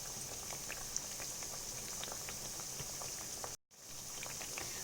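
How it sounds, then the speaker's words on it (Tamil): Beetroot vada bubbling as it deep-fries in hot oil, a soft, steady crackling fizz with scattered tiny pops, quiet and continuous, broken by one brief dropout near the end. "பட் இதெல்லாம் பாருங்களேன் வெந்துட்டு இருக்குது. ஸோ அந்த இடத்துல பபுள் இருக்குது."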